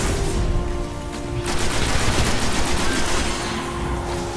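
Enemy gunfire in the video game Destiny, a dense sustained fusillade of rapid shots and crackling bursts over a constant game-sound bed, loud and continuous for the whole stretch with no speech.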